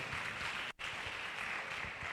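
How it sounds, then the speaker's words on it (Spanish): Church congregation claps for the Lord during a Spanish-language service, a steady wash of many hands heard faintly and at a distance, with a brief break partway through. "Démosle un fuerte aplauso al Señor."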